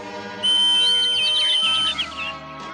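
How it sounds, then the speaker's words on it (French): A bird-calling whistle blown in a Smurfs cartoon gives one long, loud, steady high tone with fluttering overtones, lasting about a second and a half before it breaks off and low music carries on. "c'est le sifflet de Garta pour appeler les oiseaux"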